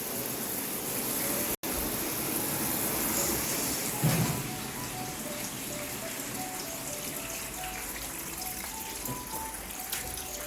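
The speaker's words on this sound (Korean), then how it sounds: "비가 내리는 시스템 이용해서 테스트했습니다" An indoor rain simulation system sprays water over a Jaguar XF during a car leak test in a workshop, giving a steady, continuous hiss and patter of water with no voices.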